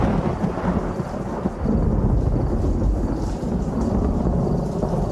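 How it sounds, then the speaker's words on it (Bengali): Thunder in a storm heard as a sound effect in a Bengali audio story: a dense, continuous low rumble that rolls steadily for about five seconds, loud and broad with a slight surge partway through, no voices present. "আচমকা বাজ পড়ার শব্দে আমাদের কানে যেন তালা লেগে গেল"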